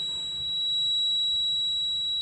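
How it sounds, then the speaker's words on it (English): A smoke detector under test with smoke gives a continuous high-pitched electronic alarm tone, steady and fairly loud throughout, with no talking. "we test this smoke detector when we leave smoke inside the house."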